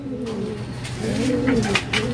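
Low, throaty cooing of a pigeon or dove, repeated a couple of times close by.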